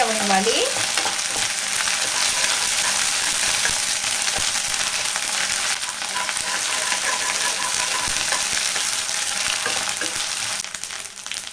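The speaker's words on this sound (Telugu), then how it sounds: "ఇప్పుడు ఈ అల్లం వెల్లుల్లి పేస్ట్ పచ్చివాసం పోయేంత వరకు అయితే ఆయిల్లో ఫ్రై" Ginger garlic paste frying in hot oil with onion and chilli while preparing mutton fry, a steady close sizzle with occasional stirring scrapes, running continuously without talk.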